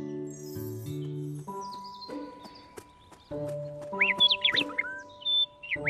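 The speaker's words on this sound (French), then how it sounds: "Un oiseau chante gaiement dans un arbre." A bird sings in a tree, with quick bright chirps and whistled trills over a backdrop of sustained musical tones.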